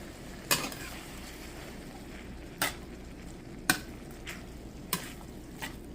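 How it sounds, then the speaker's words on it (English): Black-eyed peas and andouille sausage in a pot over medium-low heat, with a low bubbling hiss broken by four or five distinct spoon knocks and scrapes against the pot, spaced about a second apart. "You want to reduce the heat to about medium-low and stir this all together"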